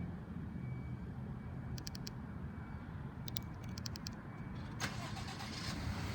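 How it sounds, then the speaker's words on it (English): A grey 2018 Ford F-150 pickup's engine turns over by remote start outdoors on a cold morning, a short crank and catch around the middle followed by a steady low idle, with faint beeps before it. "that'll start the vehicle for you, get it nice and warmed up on those cold winter mornings"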